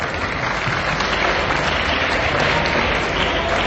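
A festival audience in Moradabad breaks into loud, sustained applause for film star guests, a thick continuous roar of clapping from a large crowd, close and even throughout.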